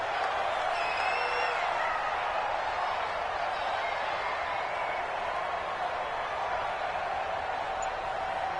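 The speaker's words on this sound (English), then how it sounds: "the crowd getting into it as we come up on a big third down" A stadium crowd in a PS4 American football game featuring the Jets keeps up a steady, even roar through the whole stretch ahead of a big third down.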